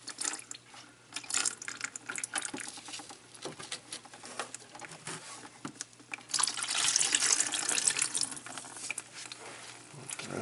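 Coolant from a Subaru engine being torn down for head gasket work drains out in a steady patter and trickle, rising to a fuller splashing flow partway through, close and continuous with no speech.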